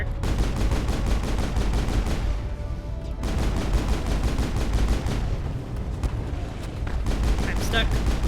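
Sustained automatic weapon fire in the sci-fi game Mass Effect hammers on loud and close in long continuous bursts with brief lulls, with a voice faintly present underneath.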